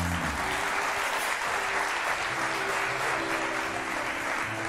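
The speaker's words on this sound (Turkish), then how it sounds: "Ceyda ve Mustafa geliyor alkışlarla" Studio audience applause on a Turkish daytime TV talk show, a steady dense wash of many hands clapping throughout, loud and sustained.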